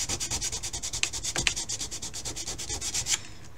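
Sandpaper rubs in quick, steady back-and-forth strokes on a balsa model rocket fin, shaping it to a taper, about two dozen close rasping passes before it stops.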